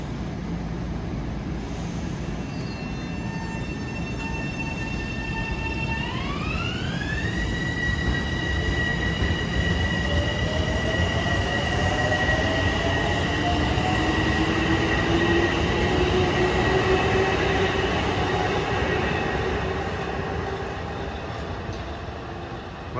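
An LIRR M7 electric multiple-unit train passes a platform on a damp day, its AC traction motors giving a loud, steady tonal whine that climbs and shifts in pitch over a continuous rumble of wheels on rails.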